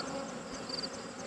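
Honey bees buzz as a dense, steady drone during a hive inspection on a bee farm after smoke is applied, a continuous close hum with no talking.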